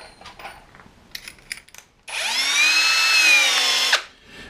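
A power drill bores a larger 6.5 mm hole for a bolt in wood during a bunk build in a small shed, a steady whining spin lasting about two seconds close up, preceded by quiet handling clicks.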